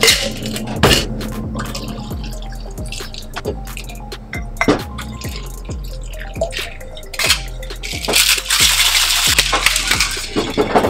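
Bacardi glugs out of a full 1-liter bottle as it is poured, a run of regular pulsing gurgles with a few sharp knocks and splashes near the end, loud and close.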